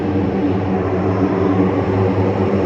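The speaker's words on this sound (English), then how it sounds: "Yay, C-130!" A Lockheed C-130 propeller aircraft passes overhead with a steady, loud droning rumble. The low propeller hum holds through the whole stretch with no talking.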